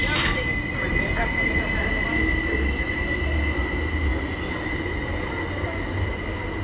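A Greater Anglia passenger train bound for Stansted Airport, class 755, rumbles steadily through a Cambridgeshire station, with constant wheel noise and high squealing tones lasting throughout at close range.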